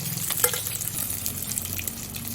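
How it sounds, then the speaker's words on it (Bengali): Pieces of katla fish fry in hot oil in a kadai, a steady bubbling sizzle with light crackles and a brief louder spatter near the start, close and continuous with no voices. "আমি দুটো দিকে লাল লাল করে ভেজে নিলাম মাছগুলো"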